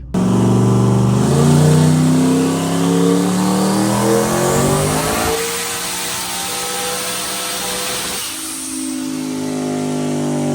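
A turbocharged 5.3-litre V8 Mustang makes a wide-open dyno pull on 35 psi of dome pressure: a loud, close engine climbs steadily in pitch for several seconds, then the throttle lifts and it settles into a lower, droning idle.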